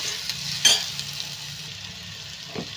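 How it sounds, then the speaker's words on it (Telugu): Onions sizzling in a pan with salt added for a tomato egg recipe, a steady close hiss broken by a few sharp scrapes and taps of stirring. "ఈ ఉల్లిపాయలు అయితే ఫ్రై అయిపోతున్నాయి"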